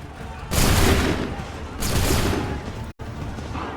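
In Assassin's Creed III, a musket volley bursts out as two loud, crackling rounds of massed gunfire, each roaring and then fading, close by and free of speech.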